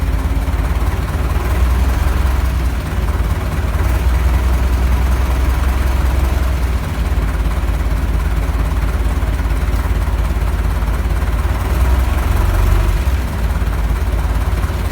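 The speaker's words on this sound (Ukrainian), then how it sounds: "завів трактор." A YuMZ-6 tractor engine idles close by, running with abnormally high oil pressure. It makes a continuous, loud low-pitched diesel chug that stays steady throughout, with no voices.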